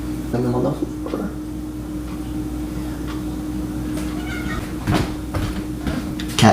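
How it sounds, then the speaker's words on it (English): A house cat lets out a loud, yelling meow partway through, among brief household clatter and a steady background hum, indoors during coffee brewing. "Cat just yelled at me."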